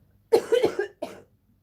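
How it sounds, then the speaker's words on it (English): A close, loud burst of several hacking coughs in quick succession, then a brief pause and one more cough, with silence around them. "I'm so sorry you had to listen to me cough all the way through it."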